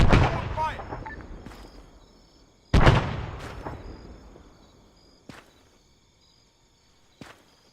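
Gunfire and artillery in the Arma 3 Antistasi mod on Altis: two heavy booming blasts that roll away into long decaying echoes, followed by a few fainter distant shots, with speech also present.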